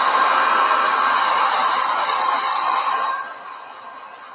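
A hair dryer blows steadily and loudly to dry fresh paint for a textile floral design, then drops to a lower, quieter setting for the last second.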